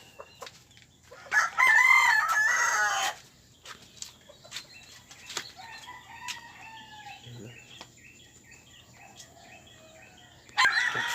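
Pet chickens cluck and a rooster crows loudly near the start at feeding time, with more crowing and scattered clucks following and a faint dog in the background.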